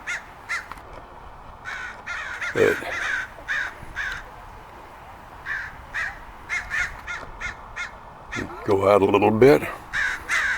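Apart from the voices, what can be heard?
crows cawing at a Cooper's hawk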